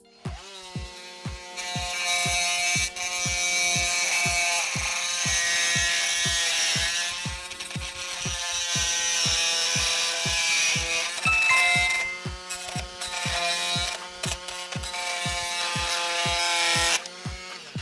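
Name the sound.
oscillating multi-tool cutting through a thin screw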